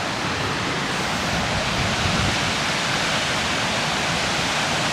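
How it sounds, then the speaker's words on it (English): A large waterfall roars. It makes a constant, loud, broadband rush of falling water that fills the whole stretch without letup, with no voices over it. "that is one big fucking waterfall"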